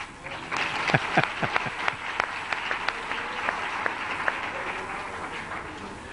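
An indoor audience at a church gathering breaks into applause, a dense spread of clapping with a few sharper claps standing out early, continuing evenly before easing slightly.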